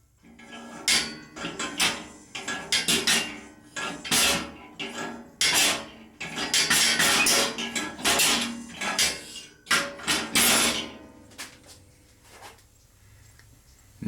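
Reclining chair mechanism creaking and grinding as it moves through its eight recline positions while resting on a metal welding table that amplifies it; loud, irregular scraping bursts repeat throughout, easing off near the end.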